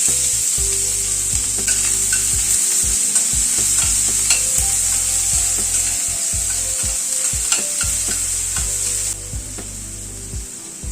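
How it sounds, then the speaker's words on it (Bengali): A medium chopped onion fries in oil with black pepper, sizzling loudly and steadily while a utensil stirs and scrapes the pan in repeated strokes, with no talk. "পেঁয়াজটা একটু হালকা করে ভেজে নেওয়ার পরে"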